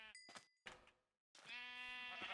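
Sheep in the Minecraft video game bleat in a few short, clear, buzzy electronic calls, with a brief gap and one longer sustained bleat at the end, heard alone without talk.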